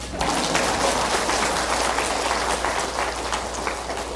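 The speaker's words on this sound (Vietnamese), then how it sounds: "Bravo, vỗ tay" A Buddhist congregation in Vancouver claps together at a dharma talk, a steady, even patter of applause with a low hum underneath, lasting the whole stretch.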